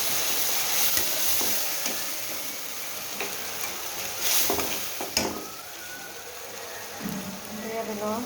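Spices and onion paste frying in a pan, a continuous soft sizzle with occasional clinks and stirring scrapes, close and moderately quiet.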